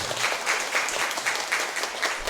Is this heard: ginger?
no